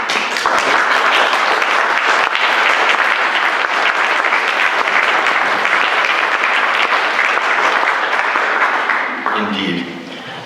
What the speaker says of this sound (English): But this time I applaud with you to thank them for their service.